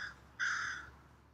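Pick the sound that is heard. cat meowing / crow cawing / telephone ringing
crow cawing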